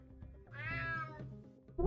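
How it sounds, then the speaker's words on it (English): A cat in a video game lets out a single drawn-out meow, rising and falling, with soft game ambience around it. "Damn cat."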